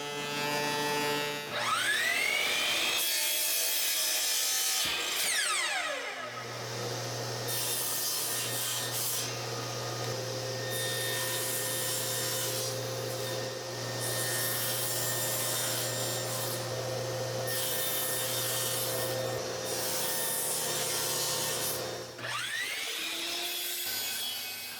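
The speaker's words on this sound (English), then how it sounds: "Instead, it uses a wedge, and that's what I'm cutting here." Hand saw cutting a wooden wedge for a homemade wooden clamp, steady rasping back-and-forth strokes with a sustained scraping tone in the middle, brief pauses near the start and end, close and loud with no talking.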